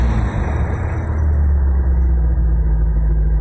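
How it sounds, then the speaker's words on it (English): A 1956 Chevy engine idles steadily near operating temperature after the gas is pumped, a loud, even low rumble with a faint high whine that fades, no voices. "Let's pump the gas and see if the idle goes down to normal"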